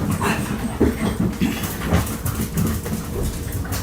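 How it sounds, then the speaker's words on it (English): Puppies pant heavily and scramble around close by, producing a steady, loud, breathy rhythm with scuffling and occasional whimpers. "I got these puppies in here sounding like I got two big ass Rottweilers in here"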